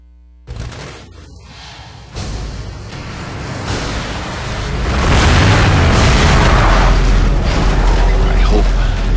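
Shotgun blasts in Gears of War 2 land as heavy, close booms, building into a loud, continuous roar of combat noise and low rumble.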